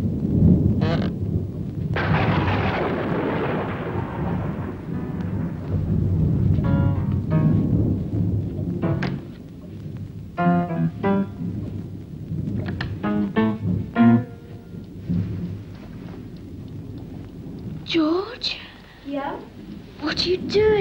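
Thunderstorm with rain as an audio drama effect: deep rolling thunder rumbles loudly over a steady rain wash, continuing under several voices speaking later on.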